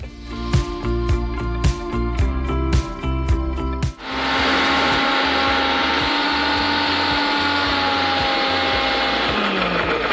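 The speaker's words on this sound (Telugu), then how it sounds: "సో అది మిక్సీ పట్టాలి." A mixer grinder (mixie) grinding batter ingredients, with several short pulsed bursts at first, then a long continuous loud whirring run that holds steady to the end.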